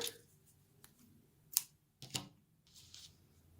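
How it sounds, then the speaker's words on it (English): Scissors snip crochet yarn at close range in a quiet room, giving a few sharp, separate clicks and cuts with soft handling noises between them. "So I'm just going to snip my yarn"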